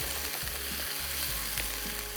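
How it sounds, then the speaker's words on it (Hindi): Chicken fries with onion, garlic and ginger in a steady, close, dense sizzle, with faint scraping of a stirring spoon beneath it and no voices. "अब खूब अच्छे से भून लेंगे"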